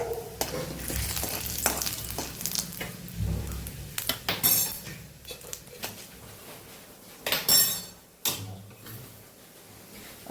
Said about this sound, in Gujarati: હવે ચણાની દાળને આપણે તળી લેશું